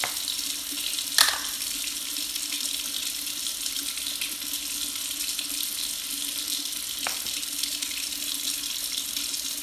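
A bathroom tap runs in a steady, even stream to wet skin, the hiss and splash continuous and close with a couple of brief clunks, no talking.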